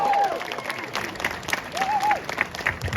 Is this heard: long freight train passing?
no